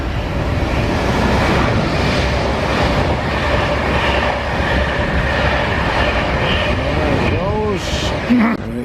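An Avanti train passes near Bolton-le-Sands, a loud, steady rumble of wheels and carriages that fills the clip, with a brief squeal toward the end and voices in the background.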